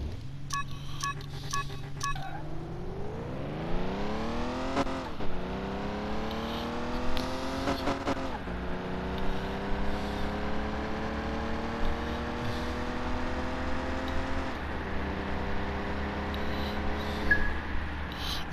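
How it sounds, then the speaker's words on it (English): A Mercedes-Benz Pagoda's straight-six engine revving in a racing video game, rising in pitch through repeated gear changes with a steady, whining tone and no talking. "I'm not really expecting a bunch of great things from this car because it's like a straight six."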